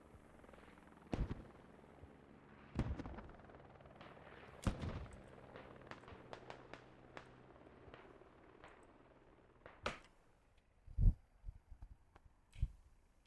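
Mortar rounds impacting in a military video game, a series of sharp distant booms and cracks scattered irregularly, with several louder blasts standing out near the end.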